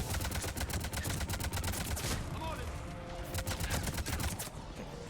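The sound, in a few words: SMG gunfire in video game Mass Effect 3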